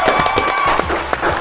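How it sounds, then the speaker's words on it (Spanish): Audience applause for a guest on a Venezuelan talk show, a short burst of dense clapping with some cheering from the crowd. "Un aplauso para Monche."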